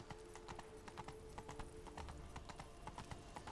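In Witcher 3, the horse Roach trots along with steady, even clip-clopping hooves, a regular rhythm heard at moderate volume over a soft game ambience.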